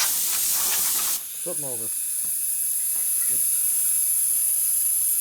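Compressed air blasts hiss loudly across freshly cleaned engine parts for a 1941 Harley WL 45 flathead stroker motor, a steady broadband rush for about a second, then a short spoken line over quieter shop ambience.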